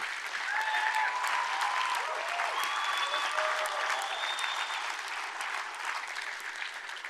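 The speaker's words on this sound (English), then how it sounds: "Clap that shit up." Sustained audience applause from a large crowd at a live seminar, dense steady clapping filling the whole stretch without a break, loud and continuous with no talking on top.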